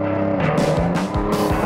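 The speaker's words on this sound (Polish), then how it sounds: "A teraz czas na Porsche 911-4S, a więc czteronapędową czarną strzałę." A black all-wheel-drive Porsche 911 4S sports car accelerating on a test track, its engine rising and dropping through quick gear changes in a loud, continuous roar with rising harmonic sweeps.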